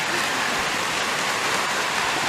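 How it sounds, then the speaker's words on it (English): Rain is starting to fall during morning outdoor chores, a steady loud hiss of drops with no break and no voices. "Well, it's starting to rain."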